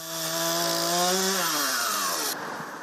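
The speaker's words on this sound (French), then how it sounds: "quelques coups de tronçonneuse" A loud chainsaw revs close by, its engine pitch rising and then falling as it bites into a fallen tree, droning steadily throughout.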